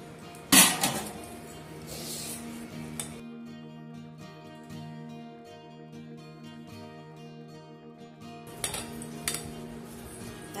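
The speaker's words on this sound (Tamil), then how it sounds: "ஸோ இப்போ இதுல நம்ம எடுத்து வச்சிருக்கிற இந்த பருப்பு ஆனியன்ஸ் கொத்தமல்லி கருவேப்பிலை வாழைப்பூ எல்லாத்தையும் போட்டு ஒரு நல்ல மிக்ஸ் கொடுத்துட்டு நான் ரெடி பண்ணிக்கிறேன்." Dal, chopped onion, coriander, curry leaves and banana flower are mixed by hand into a batter for vazhaipoo vadai, giving a steady run of close clinks and scrapes against a bowl, with a loud clatter at the start and more near the end.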